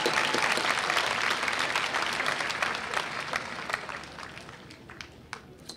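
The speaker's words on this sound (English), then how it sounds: "Give a round of applause," Graduation audience at a 2013 Columbia Southern University ceremony breaks into sustained applause, dense clapping from a large crowd that gradually thins and fades over several seconds.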